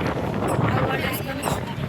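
Strong wind buffets the microphone outdoors during a group holy-bath pilgrimage trip, a steady, loud broadband rumble and roar filling the whole stretch with no breaks.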